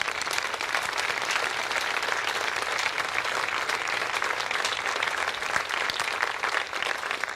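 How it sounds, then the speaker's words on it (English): Audience applause at a lacrosse and sports center dedication, dense steady clapping from a sizeable crowd sustained evenly for several seconds without talk. "If you'll all give them a round of applause."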